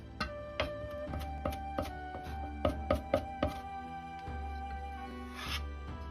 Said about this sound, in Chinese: 少许的大葱切成葱花